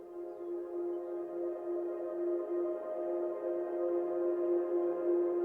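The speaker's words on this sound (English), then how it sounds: "we also have this ambience slowly rising its way up" A soft, steady ambient synth texture hums with a slowly swelling, airy tone, sustained without clear notes or voices.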